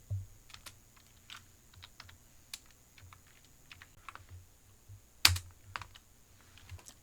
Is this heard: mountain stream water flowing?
no